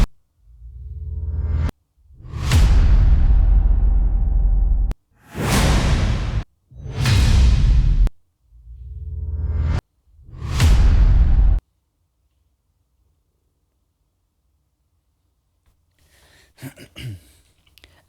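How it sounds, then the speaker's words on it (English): Trailer music hits from a sample pack, each with a rising whoosh leading in: five or six loud, booming impacts in succession with abrupt cut-offs, followed by quiet, then faint scattered noise near the end. "it has a little bit of whoosh in it before"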